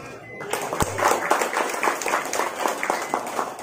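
Audience clapping for a small child performer at a Maulid commemoration gathering, a steady patter of many hands at moderate level, continuous throughout.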